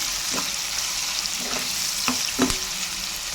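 Chopped onions fry with a pinch of salt in a pan, giving a steady bright sizzle close by, broken by a few soft stirring scrapes, with no voices.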